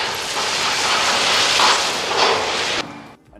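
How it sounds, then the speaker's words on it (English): A 2022 MAN TGS truck dumps its load using the power takeoff, making a loud, rushing, gritty roar for nearly three seconds before it cuts off abruptly into quiet. "To dump the load, I now activate the engine, the power takeoff,"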